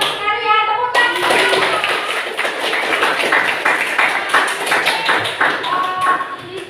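Students applaud in a classroom during a lesson on virus replication, a dense burst of clapping that starts abruptly and continues steadily for several seconds, with a voice heard faintly over it.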